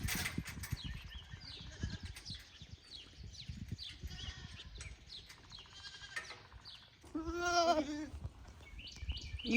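Goats being moved into a new tall-grass pasture bleat repeatedly, with several overlapping calls and one loud, close, wavering bleat near the end, over rustling, trampling and outdoor background noise.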